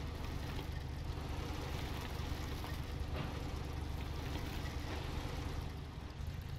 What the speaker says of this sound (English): the small engine keeps sputtering and dying on us